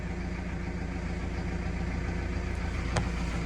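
A tractor engine idles steadily in a low, continuous rumble, close and even in level, with a brief click near the end and no talking.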